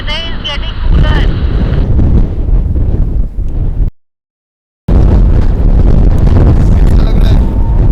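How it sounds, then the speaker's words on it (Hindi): Strong stormy wind at a campsite roars and buffets the microphone loudly and continuously, broken by a brief silent gap, with faint voices underneath. "इतनी तेज हवा आ रही है"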